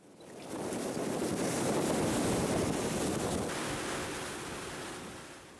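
The bow of the container ship Conti Everest ploughs through open sea, a broad, steady rush of churning water and spray that swells and stays fairly constant, with wind noise over it and no voices.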